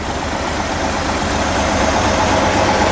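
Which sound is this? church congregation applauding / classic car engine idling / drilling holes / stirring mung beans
classic car engine idling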